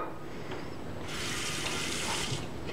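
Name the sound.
large pot being filled with water from a tap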